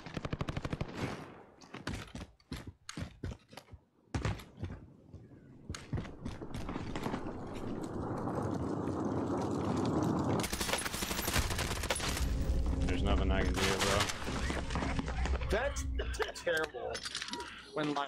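Gunfire in the video game Warzone: bursts of rapid automatic shots and single cracks in the first few seconds, followed by a sustained loud rumbling, mechanical stretch.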